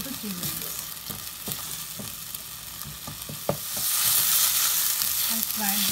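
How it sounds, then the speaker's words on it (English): Tomato and yogurt chicken curry mixture frying in a pan, with stirring scrapes and taps over a continuous sizzle that swells louder and hissier toward the end, close up with no voices. "And fry this mixture for about"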